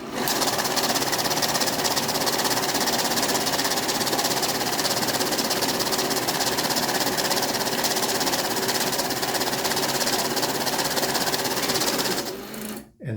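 A Kisan K2A bill counter runs a stack of mixed bills in mix mode, giving a loud, steady mechanical whirring and rapid rattling that carries on without a break for about twelve seconds before it cuts off sharply.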